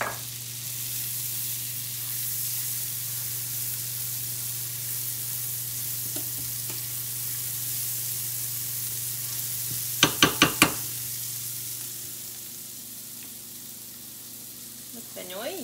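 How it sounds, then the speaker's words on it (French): Shallots sizzle softly in melting butter in a pan, a faint continuous fry heard throughout with a brief burst of clinking utensil sounds midway. "On va placer, tant que ça fond, nos échalotes."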